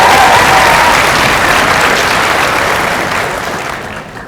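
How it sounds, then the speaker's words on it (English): Loud, dense audience applause at a veterinary white coat ceremony, a full crowd clapping steadily, then tapering slightly toward the end. "A round of applause for her."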